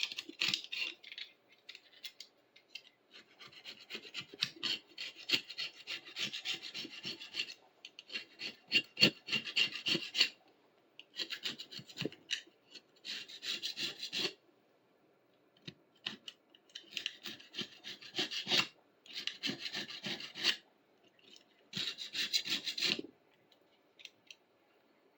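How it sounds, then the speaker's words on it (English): Scraping and brushing strip flaking paint off an old clamp vise, a steady run of dry rasping strokes in rhythmic bursts separated by short pauses, close and fairly loud with no talking. "Let's give it a quick run down to get paint off."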